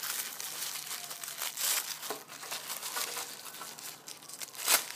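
Plastic packaging of a 1/6 scale figure weapon set being ripped open and crinkled, close crackling and tearing noises with a sharp rip near the end.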